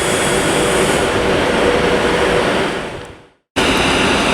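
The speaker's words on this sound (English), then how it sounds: "the partner now is going to be 390-154, the 11:40 Avanti West Coast service to London Euston from New Street" An Avanti West Coast Class 390 electric train at Birmingham International station on the West Coast Main Line gives a loud, steady rumble and roar that fades away over about three seconds, followed by a brief silence and then more rumbling.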